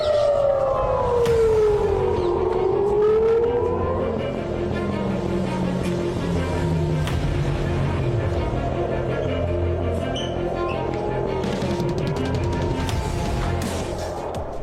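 Air raid alert sirens wailing across Tel Aviv, loud and continuous, with rising and falling tones from several sirens overlapping in a wide outdoor space.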